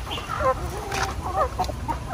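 Farm chickens cluck close by in a quick, uneven run of overlapping calls over a soft background murmur.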